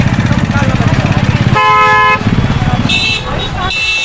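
Dense crowd and traffic at the Kumbh Mela, with a steady rumble of engines and motorcycles and repeated car horns honking loudly, one long blast then shorter toots, close by amid voices of people talking.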